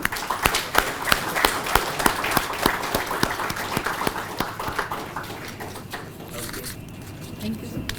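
An audience claps at a book launch during a Dhammachakra Pravartan Day celebration, with steady rhythmic claps that thin out and fade toward the end.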